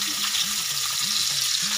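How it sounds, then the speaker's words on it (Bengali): Hilsa fish from the Padma river frying in a pan, a loud continuous crackling sizzle close by, with faint bubbling tones underneath and no talk. "ইলিশ মাছ ভাজা চলছে এখন"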